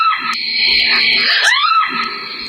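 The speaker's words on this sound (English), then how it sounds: "is absolutely terrified and screams and hurries back inside" A woman screams in terror outdoors at night, a sustained high, loud wail that bends and wavers, with a dog nearby and no other speech.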